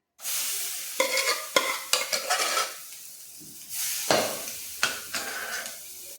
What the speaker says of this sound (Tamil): பாசிப்பருப்பையும் போட்டு கிண்டி விட்டுக்குவோம்